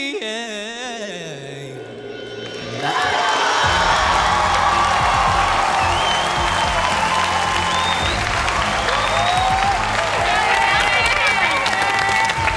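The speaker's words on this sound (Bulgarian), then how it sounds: "Още веднъж силни аплодисменти за Симеон!" A large television studio audience at a singing competition bursts into loud, sustained applause with cheers and whoops after a quiet sung ending, clapping filling the room steadily to the end, with voices rising amid the crowd.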